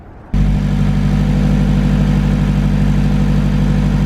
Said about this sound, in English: Just like that, the car started.